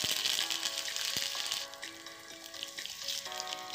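Curry leaves dropped into hot oil with onions and tempering spices, sizzling and crackling at close range; the spitting is strongest at first, then eases to a softer steady fry.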